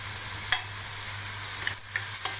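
Onion sizzles in ghee in a pan, a steady soft fry with a few light stirring clinks.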